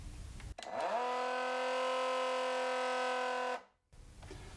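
A Milwaukee pump starts up dry with both ball valves closed and nothing in it, holding a loud steady whine with a sustained tone for about three seconds before cutting off abruptly, with no talking.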